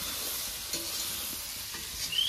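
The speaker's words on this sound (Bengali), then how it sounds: "ভালো করে নেড়ে চেড়ে সোয়াবিনটাকে সুন্দরভাবে ভেজে নেব" Soya chunks seasoned with salt and turmeric sizzle softly in a pan while a spoon stirs them, giving a steady low fry with a few faint scraping strokes and no talk.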